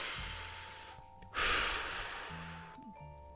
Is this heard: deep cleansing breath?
yes